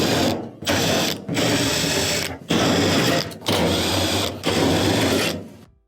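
A power driver whirs out quarter-inch screws from a clothes dryer's bulkhead, loud and close, in several sustained bursts separated by brief pauses, with the motor winding down at the end.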